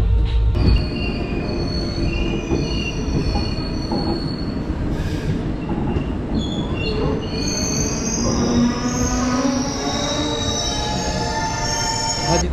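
Sustained metallic wheel squeal from an intercity express train in Assam as it slows toward a junction station, loud and continuous with steady rumbling rail noise underneath throughout.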